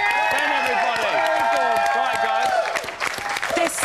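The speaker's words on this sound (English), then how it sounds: "Give him a big round of applause." A studio audience applauds and cheers on a live entertainment show, dense clapping with a presenter's voice talking over it throughout.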